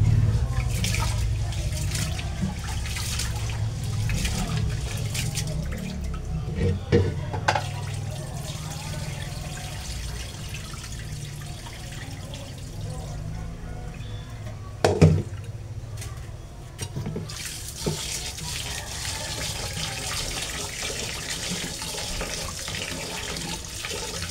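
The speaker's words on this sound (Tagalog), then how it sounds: "hugasan muna natin yung malakit at saka yung coco panda" Fish being washed under running tap water, a steady stream splashing into a basin with occasional louder clatters and splashes, continuous throughout.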